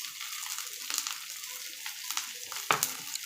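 Onions sizzling in a pan on a home kitchen stove, a soft continuous hiss with light scraping stirs and a sharper clatter near the end, close and moderately quiet, no voices.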